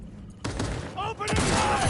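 Dense in-game gunfire and explosive crashes from the video game Cyberpunk 2077 fill a brief, loud stretch, with a voice shouting over the chaotic battle noise.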